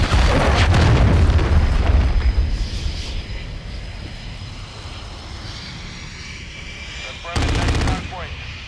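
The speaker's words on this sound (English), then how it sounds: "Friendly cruise missile deployed." Heavy explosions and gunfire from a cruise missile strike in the video game Modern Warfare 3, loud booming bursts at the start fading into a rumbling battlefield, then a sharp burst of fire near the end.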